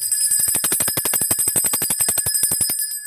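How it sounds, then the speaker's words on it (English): A small bell rings rapidly and continuously, a bright metallic trill of quick repeated strikes lasting several seconds. "Anytime we get a Pentacle card, we ring our bell, our activation bell"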